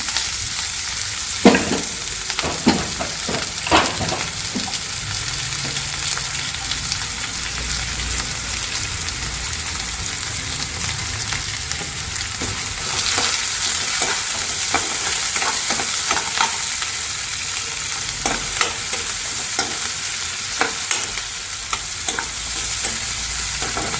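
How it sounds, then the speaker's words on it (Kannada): Onions frying in hot oil as a tempering for chana masala, a continuous close sizzle broken by sharp spatula scrapes and clinks against the pan, with no voices. "ಒಗ್ಗರಣೆಗೆ ಈರುಳ್ಳಿ ಮಾತ್ರ ಹಾಕ್ತೀನಿ"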